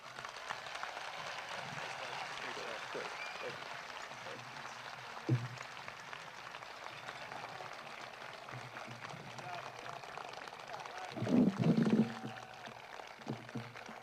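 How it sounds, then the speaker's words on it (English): Crowd applause for the graduating class of 2024 at a high school graduation ceremony: a steady, even wash of distant clapping like light rain filling the whole stretch, with a brief louder bump near the end. "may we please get a huge round of applause for this year's graduating class of 2024"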